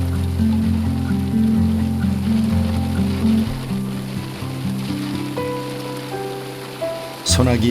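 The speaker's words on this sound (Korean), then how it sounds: "소나기 피할 곳을 찾아보지만 사방이 평지인 아프리카 초원에서 그것 또한 쉬운 일이 아닙니다." A rain shower falls on the flat, open African savanna, a steady wash of rainfall across the whole stretch, with low tonal music running beneath it and a brief louder burst near the end.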